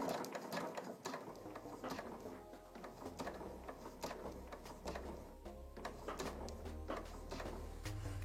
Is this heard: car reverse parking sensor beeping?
no